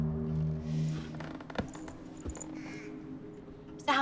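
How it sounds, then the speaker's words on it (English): Crow-like cawing in the 2014 stealth video game Thief, a few harsh calls over a steady low ambient drone with other game noises and clicks. "That's a bird. Hi, bird."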